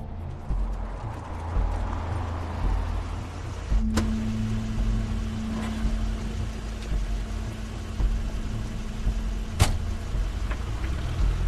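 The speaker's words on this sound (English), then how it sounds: "That's Crane's car." A car in the video game The Wolf Among Us gives a steady low engine rumble with a sustained humming tone through the middle and a few sharp clicks or knocks.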